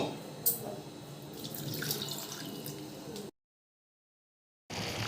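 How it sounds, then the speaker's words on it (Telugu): Water poured into a pan to make jaggery syrup for sweet garelu, a close splashing pour with a brief drip at the start, cutting off into silence before resuming. "గ్లాస్ వాటర్ వేసుకోవాలి."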